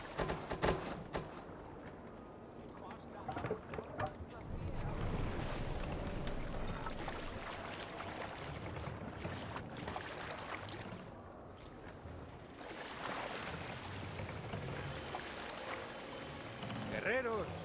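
A Viking boat in Assassin's Creed Valhalla sails over waves with a steady wash of water and wind noise, broken by splashes and creaks, while voices speak over it at times.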